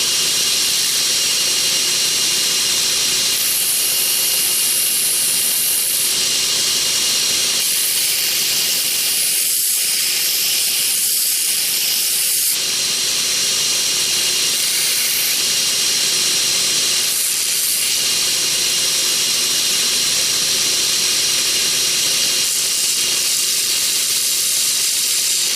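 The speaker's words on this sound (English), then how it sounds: "I'm going to stop on this heavy grit belt when I just start seeing steel" A belt grinder works a steel fillet knife blade freehand on a heavy grit belt, giving a loud continuous harsh hiss with brief dips as the blade lifts, no talk.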